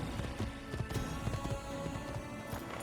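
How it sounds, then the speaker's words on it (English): Horse hooves clip-clopping in the Assassin's Creed video game, a steady galloping patter mixed into dense game sound with music and ambience. "I've got to mention about the horse sounds."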